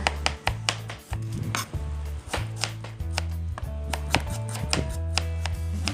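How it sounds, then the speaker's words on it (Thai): A knife slices red onion on a cutting board for a Thai green mango salad, with quick regular chopping taps, close and crisp, falling in short bursts with brief pauses between them. "ซอยซอยซอยซอย ระวังมือด้วยจ้า"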